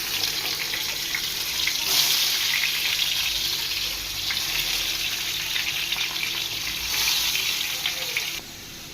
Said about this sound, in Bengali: এবার নুন হলুদ দিয়ে আলু মেখে রেখেছি, ওগুলো ভেজে নেবো তেলে।